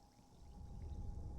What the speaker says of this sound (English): It even sounds like carbonated water.